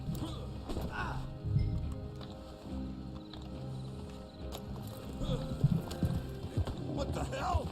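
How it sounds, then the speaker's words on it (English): Horse hooves clop and a horse whinnies in the Western video game Red Dead Online, layered with game effects while a player talks over the action. "let me put him on the horse here"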